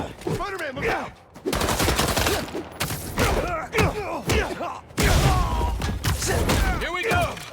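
Rapid gunfire bursts in the video game Spider-Man 2, loud and repeated in clustered volleys with thumps, mixed with shouting game voices and sound effects.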